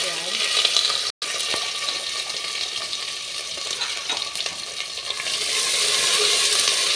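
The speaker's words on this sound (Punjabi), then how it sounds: "ਪਿਆਜ਼ ਲਗਾਤਾਰ ਹਲਾਉਂਦੇ ਜੀ ਆਪਾਂ ਇਹਨਾਂ ਨੂੰ ਪਿਆਜ਼ਾਂ ਨੂੰ ਪਕਾ ਲਾਂਗੇ" Long-cut onions and cumin frying in hot oil while being stirred, a steady loud close sizzle with scraping stir strokes throughout and a brief break near the start.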